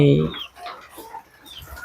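Native farm chickens fed on paddy rice give a loud, close cluck at the start, followed by softer scattered clucks and farmyard noise.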